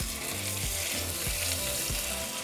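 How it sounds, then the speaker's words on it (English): Chorizo sizzles steadily in about three tablespoons of bacon grease, a loud, continuous frying hiss close up, with a soft rhythmic stirring scrape underneath and no talk. "so now I'm just going to throw in the chorizo"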